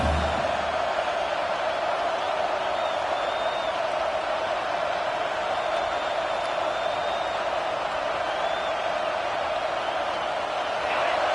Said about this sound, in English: Fourth down, and this crowd trying to help this defense rise to the occasion.